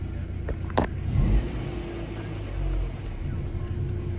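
A 2018 Volvo S60 with a 2.0L engine gives a brief rev that swells and fades against a low rumble of idle, heard close, with a faint voice under it.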